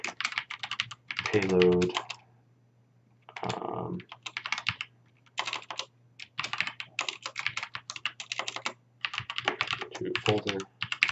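Quick clattering keystrokes on a computer keyboard come in irregular bursts close to the microphone, interleaved with someone talking.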